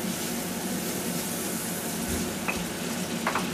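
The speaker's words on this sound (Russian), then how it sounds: "И рыбу я жарю в шайтан машине." Steady sizzling of fish frying in a hot electric cooker, a continuous crackling hiss with a couple of faint clinks near the end.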